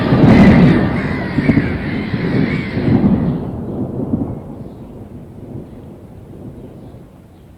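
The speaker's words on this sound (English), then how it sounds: "Don't worry, it's just from the storm." Thunderstorm with a heavy, close rumble of thunder that booms loudly at first and then rolls away, fading into a low distant grumble.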